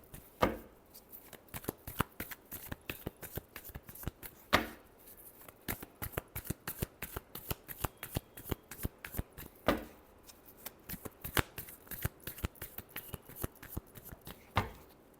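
Tarot cards being shuffled for an Aries horoscope reading, a steady run of crisp riffling flicks and snaps up close, punctuated every few seconds by a sharper bridge or tap, with no talking over it.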